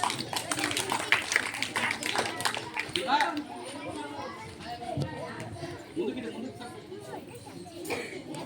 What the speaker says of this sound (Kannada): ವೀರ ಭಗತ್ ಸಿಂಗ್ ಮತ್ತು ಅವನ ತಾಯಿಯನ್ನು ಜೋರಾದ ಚಪ್ಪಾಳೆಯ ಮೂಲಕ ಸ್ವಾಗತಿಸೋಣ.